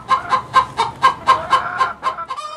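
A hen clucks loudly after laying an egg, about ten sharp, evenly spaced squawking clucks in a rapid rhythm, close and clear with no voices.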